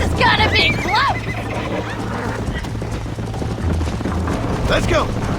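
Horses neigh and whinny in a Red Dead Redemption 2 race, loud and close, with several whinnies over continuous galloping hoofbeats and game rumble.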